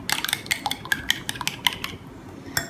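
A spoon stirs sugar into fruit chaat in a bowl, giving a quick series of sharp metallic clinks and scrapes against the bowl, close and clear, tapering off toward the end.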